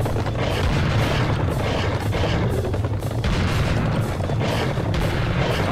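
Rapid gunfire and booming shots pound continuously in a Serious Sam HD: First Encounter desert level, loud, dense and unbroken throughout.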